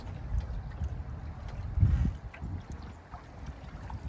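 A Windrider 16 sailboat moves across the water with a low, uneven rumble of wind buffeting the microphone and soft water wash, one stronger gust swelling midway, no voices.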